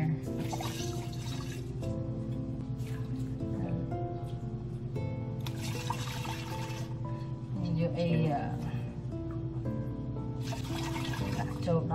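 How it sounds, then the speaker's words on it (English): Green tea honey ginger lemonade poured through a funnel into a container, a steady continuous stream of liquid with trickling and splashing, close and fairly loud, with a voice talking over it. "And then you're gonna get a funnel. You're just gonna pour it in here."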